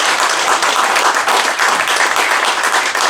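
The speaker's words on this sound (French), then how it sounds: "Applaudissons pour la parole." A congregation at a church ordination service applauds loudly and close, a dense, continuous burst of clapping from many hands with slight swells, lasting about three seconds without speech.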